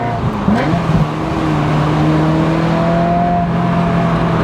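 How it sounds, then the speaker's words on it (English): A Ferrari F355 GTS engine drones loudly from inside the car, with a short blip of revs during a downshift followed by a steady rising engine tone. "Boom. And that's a downshift."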